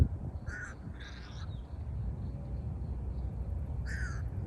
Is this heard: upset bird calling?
yes